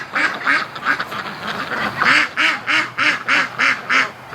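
Domestic ducks gathered under a parked truck quack loudly and close by in a steady run of about a dozen raspy calls, nearly evenly spaced with only short gaps between them.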